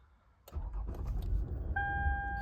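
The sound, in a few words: 2010 Lexus ES 350 engine starting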